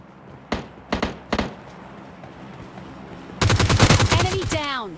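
Gunfire in the video game PUBG Mobile Lite: three spaced single shots, then a dense rapid burst of firing with a sweeping tonal sound at its tail, loud and close.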